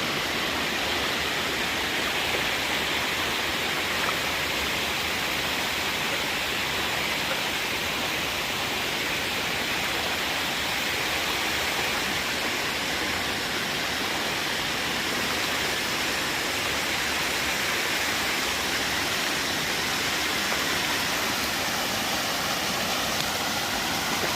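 A creek flows steadily and close by, a dense, even rush of water with a waterfall-like roar that holds constant the whole time without any voices.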